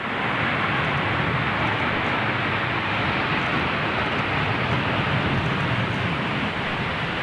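An Airbus A330 jet lands with its thrust reversers deployed, giving a loud, steady broadband roar that holds constant with no speech over it.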